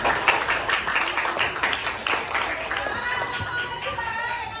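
A classroom breaks into applause, scattered hand claps from a group of students building into a brief burst and then thinning out, with some chatter mixed in.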